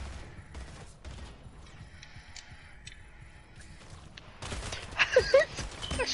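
Gunfire rattles in Splitgate, a faint flurry of distant shots early on giving way to louder, closer rapid fire in the final seconds.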